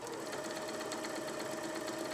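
A Janome DC2013 sewing machine stitches a keyhole buttonhole, its motor and needle running in a steady, fast, continuous whir close by with no talking.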